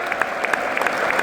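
Stadium crowd at a football match applauding a substituted player as he leaves the field, a continuous wash of clapping with small bursts, heard from within the stands and without voices.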